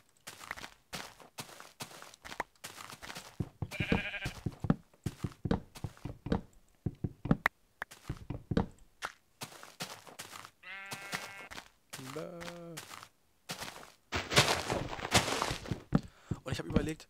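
Sheep in the Minecraft video game bleat several times in short wavering calls, mixed with blocky footsteps, thuds and other game sounds, while someone talks throughout.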